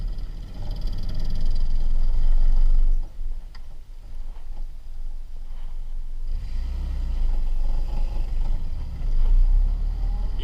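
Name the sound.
1948 Willys CJ-2A jeep engine while driving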